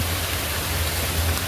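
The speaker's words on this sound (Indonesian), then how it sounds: "Suasana hujan gerimis sore menjelang senja di seputaran jembatan Cangar" Light evening drizzle falls in a forest around the Cangar bridge on the Mojokerto border, a steady even hiss with a low rumble beneath and no voices.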